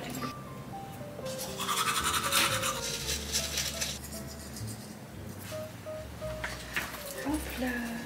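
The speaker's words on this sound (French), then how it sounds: "Maman ici elle va se brosser les dents." Close, steady toothbrush scrubbing with rhythmic back-and-forth strokes running through the whole stretch, while a voice talks over it at home.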